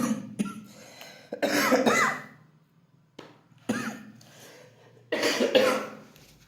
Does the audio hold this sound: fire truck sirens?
no